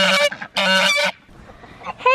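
A farmyard goose named Bernie honks loudly nearby, two long harsh calls and then a third starting after a short pause.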